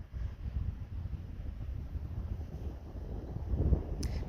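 Wind blowing steadily across an outdoor trail campsite during a Continental Divide Trail hike from Ghost Ranch to Chama, a continuous low rumbling buffet that swells slightly near the end.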